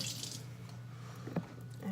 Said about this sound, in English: Just rinse that off.